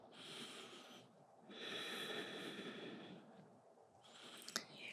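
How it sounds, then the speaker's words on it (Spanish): Slow nasal breaths during a beginner yoga class, two long airy inhales and exhales through the nose, soft and close, with a brief sniff or rustle near the end. "Cierra la boca, acuérdate, respira por la nariz."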